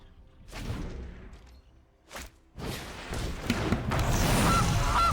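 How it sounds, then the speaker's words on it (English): A goose honk sound effect from a card video game plays in short bursts, a couple of quick honks followed by a denser, louder run of honking and clatter. "Goose."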